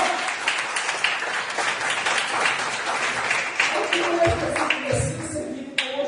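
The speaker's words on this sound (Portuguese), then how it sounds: "Você pode aplaudir o nome de Jesus?" A church congregation at a Tuesday worship service claps together, a fairly loud and steady wash of hands that carries on throughout, with a voice coming in toward the end.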